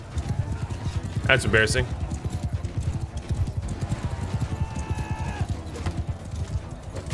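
Horse hooves pounding in the video game Mount and Blade Bannerlord, a fast repeated clip-clop running throughout with a brief neigh early on, while someone talks over it.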